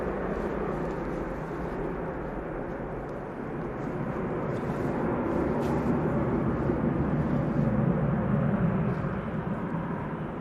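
An airplane departing Manchester Airport, a steady broad engine roar that swells gradually, heard from a distance without talk.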